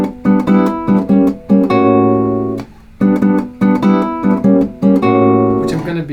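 A guitar introduction to a bossa nova tune, with rhythmic plucked chords in a syncopated pattern, short stabs alternating with ringing held chords, played close and clear with no talk.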